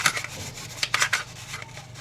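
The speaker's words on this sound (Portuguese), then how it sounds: "pego papel higiênico, um pouquinho de álcool isopropílico, e eu vou limpando toda essa área aqui onde eu furei" Toilet paper dampened with isopropyl alcohol rubs over a drilled case to clear metal filings, producing close, continuous papery scrubbing with brief louder strokes.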